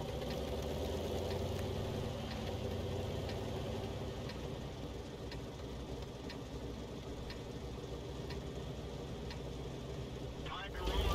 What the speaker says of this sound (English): That's it, got the engine noises back.